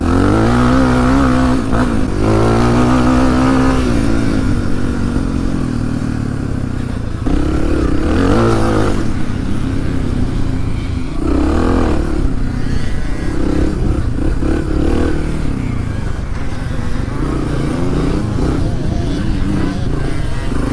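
A Suzuki DR 350 trail motorcycle races off-road in a cross and enduro event, its engine revving loud and close, rising and falling through gears with rattling clatter, while a rider speaks briefly over it.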